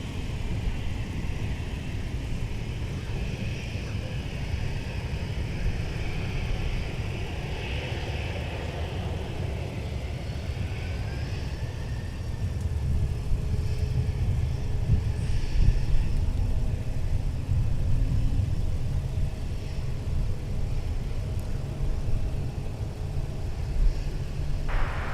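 Delta Boeing 757-300, formerly Northwest, taxiing toward runway 17 at Minneapolis–St. Paul airport, a steady distant jet engine rumble and whine that grows slightly louder midway and holds throughout.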